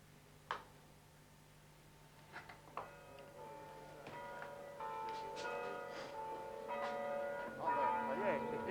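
A church bell in the village of La Nef, near Charleroi, rings out in scattered struck tones that build into overlapping, sustained chiming, growing steadily louder and fuller toward the end.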